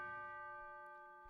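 A bell sound sample played back in audio production software: a single faint, clear tone with several ringing overtones, decaying slowly and evenly, alone with no other sounds.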